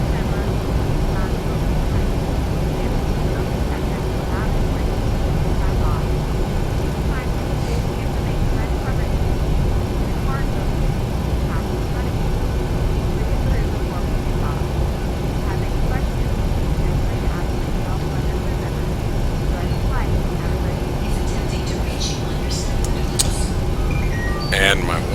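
A Boeing 737-800 taxiing at night in the FSX flight simulator, heard as a continuous, loud, even jet engine rumble with a faint whine, steady throughout with only minor clicks near the end.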